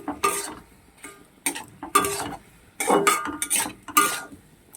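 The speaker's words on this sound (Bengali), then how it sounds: "সামান্য জল দিয়ে দিচ্ছি ভালো করে কষে নেব" Spoon scrapes and clinks on a pan as masala with a little water is stirred and cooked, in irregular close bursts over a soft sizzle.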